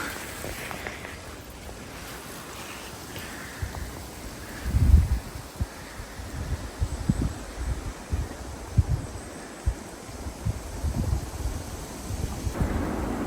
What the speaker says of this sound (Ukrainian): як там ліс шумить. От там вітер дує.